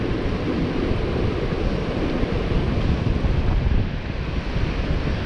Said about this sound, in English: Westerly wind's just come up.